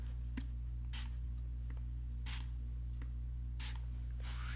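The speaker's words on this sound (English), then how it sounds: "I'm just going to kind of spray this." Several short perfume sprays hiss from a pump bottle, spaced a second or so apart, over a steady low electrical hum.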